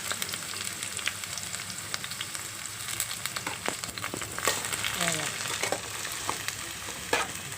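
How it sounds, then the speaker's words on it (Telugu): Onion and green chilli pieces fry in hot oil in a pan, a steady close crackling sizzle with scattered sharp pops and a few stirring scrapes throughout. "పాన్ పెట్టాం, నూనె వేసాం కదండి, నూనె కాగింది. ఉల్లిపాయ ముక్కలు వేస్తున్నాం కదా, ఇప్పుడు పచ్చిమిరకాయ ముక్కలు కూడా వేస్తాం."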